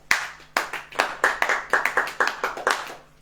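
A church audience claps in a steady, rhythmic beat during a sermon, about eight sharp claps in quick succession, close and loud, with no talking over them.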